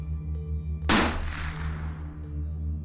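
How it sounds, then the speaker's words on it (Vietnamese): A single loud gunshot sound effect in a spoken ghost story, a sharp crack followed by a long decaying echo over a low steady musical drone. "tiếng súng vang lên nhói cả tai từ phía tên cò tay"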